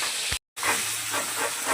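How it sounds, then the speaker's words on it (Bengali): Rohu fish pieces frying hard in hot oil, a steady loud sizzle and hiss close up, broken by one brief silent gap. "তো রুই মাছগুলো আমি আর একটু ভালো করে লাল করে একটু ভেজে নেবো কড়া করে।"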